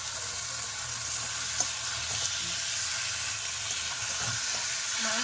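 Marinated meat sizzles as it fries in a pan of cooked-down spices, a steady bright hiss with occasional small pops and stirring scrapes, close and continuous without talk.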